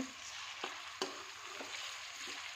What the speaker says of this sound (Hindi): यहाँ पर हम इसको जो है वो अच्छे से फ्राई करेंगे